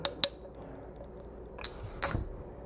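Glass test tubes from a chemistry set clinking as it is unboxed: a few sharp, bright taps, two quick ones at the start and two more a moment later, close and fairly quiet over faint room noise.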